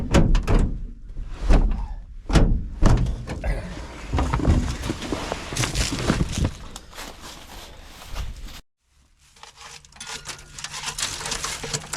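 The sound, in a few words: door of a 1965 Chevy being forced open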